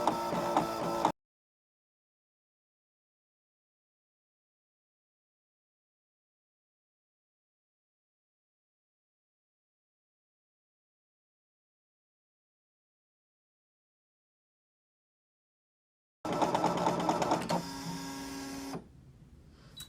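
Brother ScanNcut2 cutting machine drawing with a pen, giving a short whirring, printer-like burst at the start and a longer buzzing, stepping run near the end, separated by a long stretch of silence.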